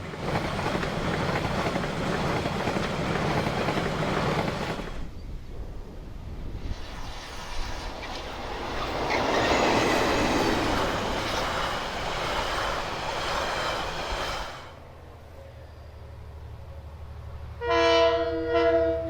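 Excursion train hauled by diesel locomotive DFB 7010 with the Capital Connection carriages climbs Westmere Bank, its engine droning loudly and rising as it passes near, then dropping away before a horn sounds in short blasts near the end.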